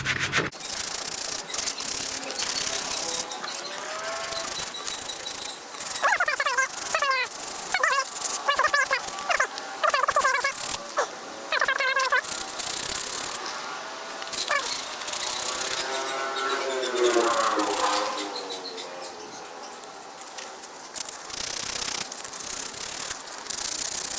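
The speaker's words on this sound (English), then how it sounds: "rough sandpaper that I'm using here. .36 grit to start off with, but I'll come through with some 120." Coarse 36-grit, then 120-grit sandpaper scrubs back and forth over welded plastic automotive interior trim in close, uneven bursts of rubbing, with someone talking intermittently between strokes.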